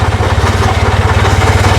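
An abandoned police car's engine idles steadily with a rapid, even low throb, loud and close, no talking.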